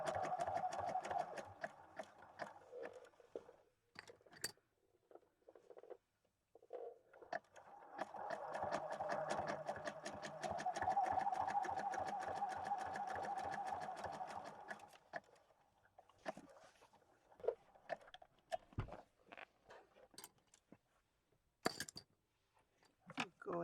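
A sewing machine quilting fabric for a soft-cover journal runs in a steady rapid whirring, stitching burst for several seconds mid-clip, framed by quieter clicks, fabric handling and brief pauses.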